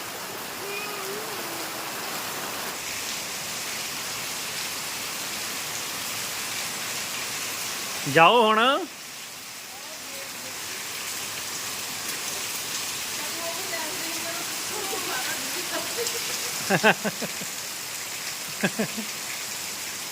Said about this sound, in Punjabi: ਮੀਂਹ ਬਹੁਤ ਤੇਜ਼ ਹੋਇਆ ਪਿਆ